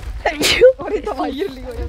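A single sharp human sneeze bursts out up close, quickly followed by casual Spanish conversation.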